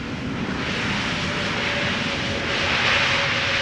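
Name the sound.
Lufthansa airliner landing with engine reverse thrust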